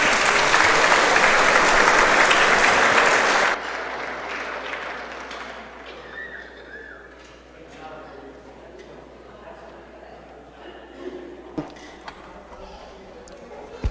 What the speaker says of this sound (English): they give them another round of applause